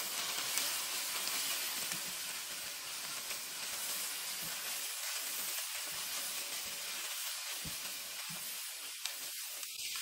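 Cod with sweet and smoked paprika and pepper sizzles steadily in a hot pan as it is stirred, a close, continuous hiss and crackle with soft scraping movements throughout.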